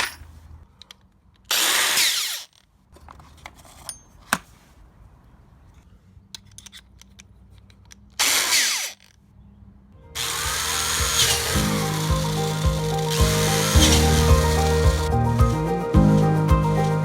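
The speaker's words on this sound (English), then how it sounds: "we'll drill in some holes around the bottom of this" A power drill bores drainage holes into the bottom of a plastic bucket for a raspberry container, heard as two short, loud whirring bursts separated by quiet. A dense, sustained sound follows the bursts.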